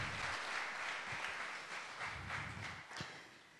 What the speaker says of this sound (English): So give yourself a bigger round of applause.